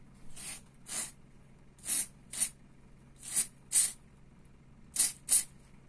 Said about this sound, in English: To make sure that you have cleaned the nozzle thoroughly, get a carburetor cleaner with a clean pipe, place it,